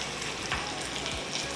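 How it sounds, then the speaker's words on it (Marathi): Cumin and green chilli sizzling in hot oil for a tempering: a dense, steady crackling fry close up, with a couple of brief swishes of stirring and no voices. "फोडणीसाठी तेल, यामध्ये आता जिरं घालतो आपण"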